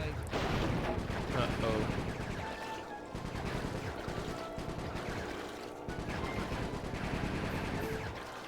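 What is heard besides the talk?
gunfire in video game Sly 3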